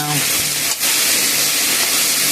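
Food sizzles steadily in hot oil in a pan, a loud continuous hiss with a brief dip as it is stirred, while someone speaks briefly at the start.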